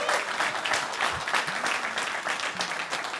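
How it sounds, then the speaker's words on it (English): Dense audience applause fills a hall at a student challenge grand finale, a continuous wash of many hands clapping at steady volume, with a faint voice or two murmuring underneath. "let's give Luc one more round of applause"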